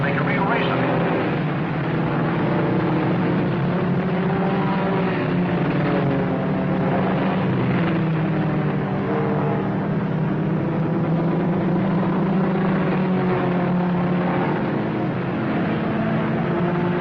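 Race car engines drone on a track in a 1955 film, a continuous, loud, slightly wavering roar lasting throughout, with a commentator's voice running over it.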